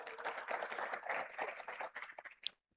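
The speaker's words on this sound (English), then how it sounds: "Give him a big round of applause as he comes up." Audience clapping at a forum in Kigali as a guest makes his way up from the back of the room, a steady patter of many hands that thins out and ends with a few last claps.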